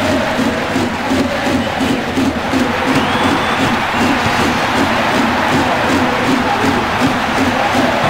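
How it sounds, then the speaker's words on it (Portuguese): Stadium crowd roar from a PS2 Winning Eleven 10 football match, Brasileirão league, a dense steady wash of cheering and chanting from a large crowd that stays loud and even throughout. "A torcida fica desesperada"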